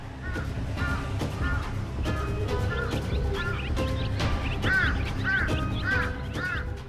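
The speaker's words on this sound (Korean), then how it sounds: "요란한 울음소리로 철새들을 내쫓는 까마귀" Repeated harsh cawing from a large-billed crow chasing off migratory birds, several loud calls in irregular bursts, with other bird calls mixed in close by.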